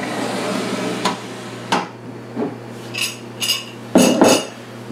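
Metal pan and utensils clink and clatter in a few sharp, close knocks as milk and cream are strained off cooked fish, with a low steady hum underneath.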